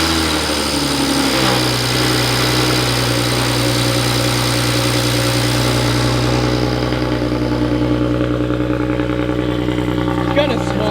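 A BMW 335i engine turns over steadily to prime its turbo with oil after sitting nine months, a loud continuous mechanical drone with a constant low hum and no break, close by.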